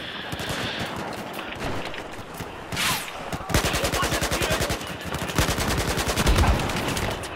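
Rapid gunfire from the video game Battlefield 4, with a scattered burst early on and then dense automatic volleys running steadily through the second half, loud and close.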